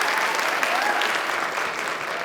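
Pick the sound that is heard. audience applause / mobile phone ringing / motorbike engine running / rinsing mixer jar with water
audience applause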